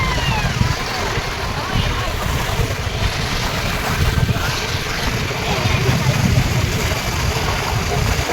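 A boat ride on Lake Pichola in Udaipur, with a steady low engine rumble and water wash under continuous wind buffeting the microphone.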